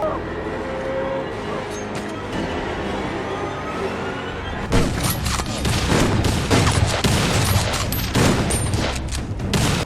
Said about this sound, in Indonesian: Teman baru Teddy tidak sengaja menyentuh jebakan dan kontak senjata pun terjadi